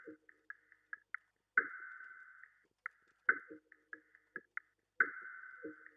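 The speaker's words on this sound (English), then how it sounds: "I layered them together so they sound like this." Two EQ'd loop samples layered in FL Studio for a vintage dark beat: sparse, quiet stabs and sustained tonal phrases that start and stop, with short plucks between longer held chords, no voices.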